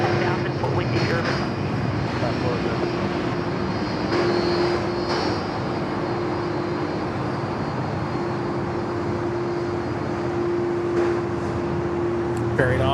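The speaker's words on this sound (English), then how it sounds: "Here comes the A330." An Airbus A330 airliner approaches to land at Sydney Airport, a steady loud engine roar with a sustained tone heard from a control tower, with people talking over it.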